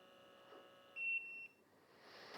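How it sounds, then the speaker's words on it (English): A portable espresso maker beeps when extraction finishes: a brief electronic tone sounds alone in a quiet room, ending in a short held beep before fading into faint background noise. "it beeps when it's done"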